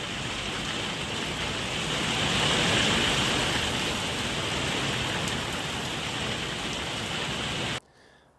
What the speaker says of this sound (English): wind blows over a cloud, and it's torrential downpour